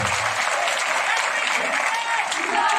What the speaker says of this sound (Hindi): उसके लिए आप सबसे निवेदन है कि जोरदार तालियों से दतिया में आ गए।